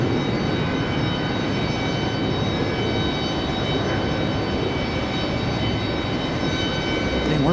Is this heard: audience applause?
no